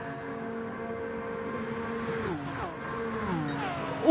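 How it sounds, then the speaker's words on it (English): Single-seater race cars roar past in a racing video game, high engine notes climbing and then dropping in pitch as several cars shift gears through a corner, steady and fairly loud with no talk. "Oh, the sound of these cars are just beautiful."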